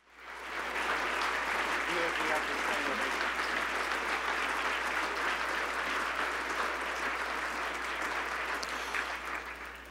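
A hall full of people at an award ceremony breaks into sustained, loud applause, dense clapping swelling quickly and holding steady for nearly ten seconds.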